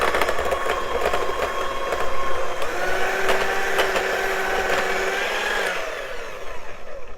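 An electric mixer whirs steadily in a bowl of grape salad mixture as the bowl is turned, a loud, even motor drone with a shift in pitch partway through before easing off.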